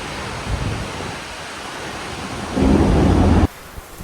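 A thunderstorm over Talat Phlu in Bangkok: steady rain hiss with a low rumble of thunder that swells loudly for about a second before cutting off, followed by quieter rain and a faint distant rumble.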